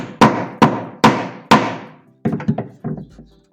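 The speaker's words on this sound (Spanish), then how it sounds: "esta ligera punta la podemos solucionar con un martillazo" A hammer strikes wood four times in an even rhythm, each blow sharp and loud. A cluster of lighter, quicker knocks follows as a carpenter flattens a slightly protruding edge on a wooden coffin in a workshop.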